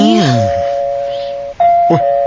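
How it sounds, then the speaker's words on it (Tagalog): A single electronic doorbell chime rings loud and close, followed by a brief second tone, with a voice briefly overlapping at the start. "May nag-doorbell."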